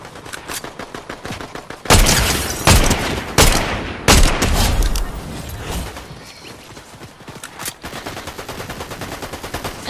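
Gunfire in the video game Fortnite, with loud rapid bursts and automatic fire clustered in the middle and a steady rattle of repeated shots toward the end.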